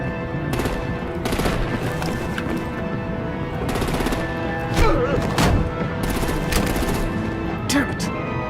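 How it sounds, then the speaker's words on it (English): Artillery and heavy gunfire erupt in a Batman: The Realm of Shadows battle, with repeated loud bursts of rapid automatic fire and thudding shots over a constant rumbling backdrop. "Break out the artillery and disable their vehicles!"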